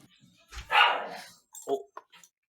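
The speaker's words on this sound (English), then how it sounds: "Oh, a dog." A dog barks a few times indoors: one loud, drawn-out bark followed by a couple of shorter, quieter yips, with brief silences between them.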